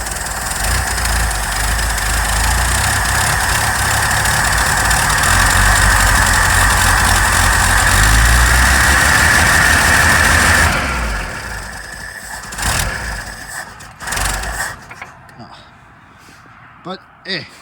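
A 1981 Ford Bronco's 300 inline-six, revived after years of sitting, idles roughly and steadily with an uneven misfire for about ten seconds, then cuts off, leaving scattered clunks and faint garage noises.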